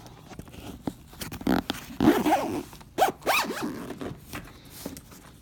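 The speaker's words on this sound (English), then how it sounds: "And once we zip everything up here," Zipper pulled along a Protec Explorer bass trombone gig bag, several quick rasping zips at close range with handling rustle in between.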